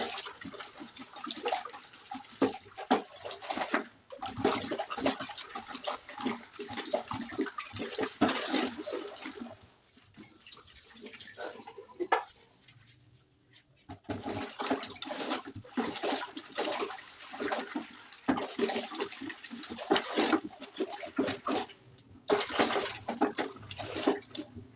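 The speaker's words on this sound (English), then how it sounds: "I just added some water so that it can dissolve more." Water pours and splashes into a homemade bleach detergent mixture, a rushing, sloshing flow in long bursts with a brief quieter pause midway, close and moderately loud without speech.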